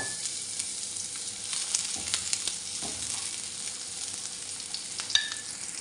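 Chopped onion sautéing in hot oil in a pan, a continuous bright crackling sizzle with scattered scraping stir sounds and one sharper clink near the end, no talking.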